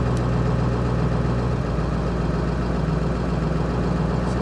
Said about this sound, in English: Seems like it's got a really high idle right now.